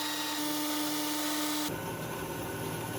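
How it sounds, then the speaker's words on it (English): A lathe machines an aluminum cylinder, giving a steady whine with bright tonal overtones. Partway through, the sound turns into a harsher, broadband cutting noise, close and continuous, with no speech. "Now we are going to machine this aluminum cylinder."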